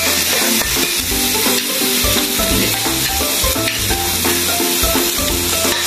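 Garlic sizzles in a hot pan with a steady hiss and occasional stirring, heard under loud, continuous music.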